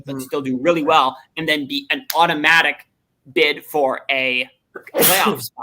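A sharp, loud sneeze bursts out near the end, right after someone speaks in a sports talk discussion.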